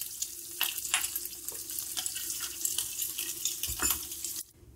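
Boiled eggs frying in a pan for egg korma, a continuous hiss of hot oil with occasional stirring scrapes, nearby and steady until it cuts off at the end.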